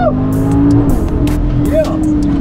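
A Lamborghini Aventador SVJ supercar pulls away with engine roar and rising rev tones, mostly inside the car, while a person cheers over the loud, steady motor noise.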